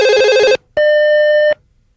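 A telephone rings twice in loud, clean electronic tones, the second ring longer than the first, with a short silent gap between and quiet after.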